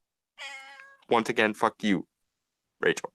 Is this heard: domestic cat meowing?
yes